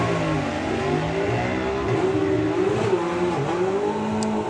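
Drag racing motorcycles on the strip at a summer nationals event, with a steady loud engine roar and rising revving tones throughout, continuous and fairly close without pause.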